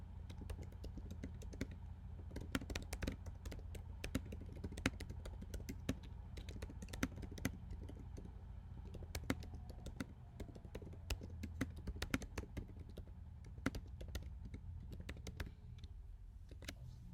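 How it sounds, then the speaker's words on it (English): A student types a response on a computer keyboard, a steady run of quick close key clicks over a low room hum, with no voices. "So now he's going to start writing his response."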